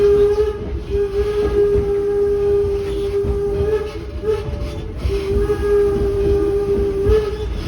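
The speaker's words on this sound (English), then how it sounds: "Locomotive pulling our train today, the No. 7 was built in 1897 at the Baldwin Locomotive Works in Philadelphia, Pennsylvania" The No. 7 Baldwin 4-4-0 steam locomotive, built in 1897, pulls a train near West Andover, Connecticut, its whistle sounding a long steady blast, briefly breaking, then resuming over loud rumbling rail noise.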